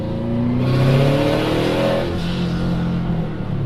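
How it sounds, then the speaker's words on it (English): A turbocharged Subaru on its stock turbo with an external wastegate accelerates hard under boost, its engine note climbing loudly and steadily for a few seconds before easing off, with no voices. "When I put the pedal down, I'm immediately in boost"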